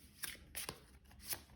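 Tarot cards being shuffled and drawn by hand, a few short papery riffles and slaps in quick bursts, close and quiet with no talking.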